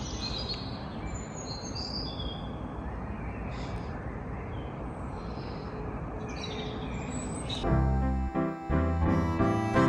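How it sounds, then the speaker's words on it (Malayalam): Birds chirp and tweet on a rainy morning, their calls rising over a steady broadband hiss of rain. Near the end a louder, rougher clatter takes over. "ഇപ്പോൾ രാവിലെ എഴുന്നേറ്റപ്പം നന്നായിട്ട് കിളികളുടെ സൗണ്ട് കേൾക്കുന്നുണ്ടേ."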